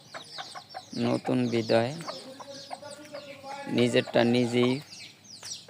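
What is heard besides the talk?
native hens clucking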